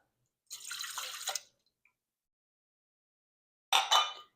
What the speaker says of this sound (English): the first ingredient we're going to add into the pan is a cup of warm water